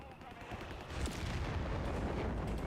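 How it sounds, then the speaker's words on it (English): Artillery fires in a real-time strategy video game, a dense, steady wash of booming shots and rumbling blasts that runs without a break and grows slightly louder partway through. "I think they're all shooting right now."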